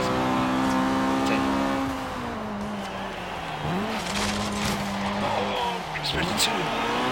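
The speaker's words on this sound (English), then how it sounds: "Now that is a VTEC! Listen to that" A 2016 Honda Civic Type R with a VTEC engine races in Forza Horizon 3, its high-pitched engine note holding, dipping and climbing through shifts, with tire squeal and skids, while someone talks over it.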